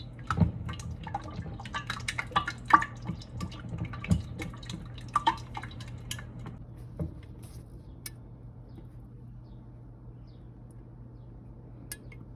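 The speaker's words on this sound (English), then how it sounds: "So now we're going to stir." A spoon stirs a raspberry and ginger granita mixture in a bowl, making soft liquid swishes and light clinks against the dish. The clinks are busier at first, then fade to a quiet hum, with no talk.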